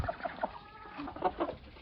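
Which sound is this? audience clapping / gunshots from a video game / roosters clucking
roosters clucking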